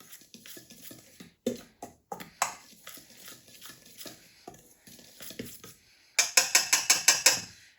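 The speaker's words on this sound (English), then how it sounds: "I am going to whisk all of our dry ingredients" Dry ingredients for a gingerbread cake, including salt, are whisked together in a bowl. There are quick rhythmic clinks and scrapes of the whisk against the bowl, close by, and a faster burst of strokes comes near the end.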